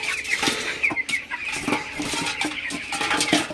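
Broiler chicks about fifteen days old cluck and peep in a busy, close chorus while six are held on a weighing scale, with soft scuffling bumps among the calls.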